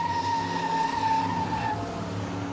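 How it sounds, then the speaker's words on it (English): A Super X-Car, number 63, does a smoke show burnout at Waterford Speedbowl at the end of the 2007 season. A loud, sustained tire squeal rides over the droning engine, then eases off near the end. "A little impromptu smoke show for the driver of car number 63"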